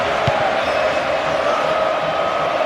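A large stadium crowd at a Çaykur Rizespor versus Trabzonspor Süper Lig football match roars and applauds a goalkeeper's save, a loud, continuous wall of cheering and clapping filling the whole moment.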